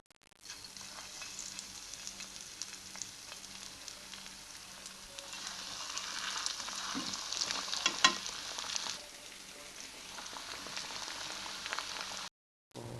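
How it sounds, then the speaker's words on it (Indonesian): Breadcrumb-coated pieces frying in hot oil give a steady, moderately loud sizzle with crackling that swells toward the middle before a brief cut near the end; no one talks. "aku udah dibalur tepung roti, aku goreng"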